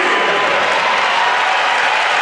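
A crowd at an NCAA volleyball tournament match cheers and applauds loudly and steadily as one dense roar of clapping and voices, with no break.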